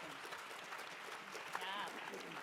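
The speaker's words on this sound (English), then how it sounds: "Let's have a round of applause for them before we jump into questions." A room of attendees at a plenary convening applauds, a steady wash of clapping that carries through the whole stretch with a slight swell near the end, and a voice is briefly heard over it.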